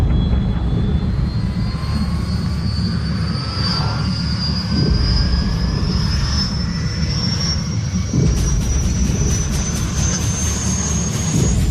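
A loud, continuous helicopter engine drone with a rising whine, steady throughout as the helicopter powers up and lifts off.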